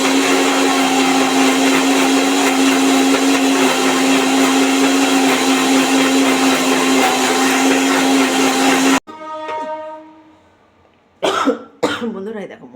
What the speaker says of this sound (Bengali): মিক্সিতে পেস্টটা করে নিচ্ছি